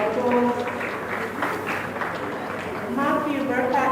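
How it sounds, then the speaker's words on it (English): Audience applause at a legal professionals' summit in Nigeria, sustained clapping and murmuring from a crowd greeting a panelist, with voices mixed in and a brief swell near the end. "Please give him a round of applause."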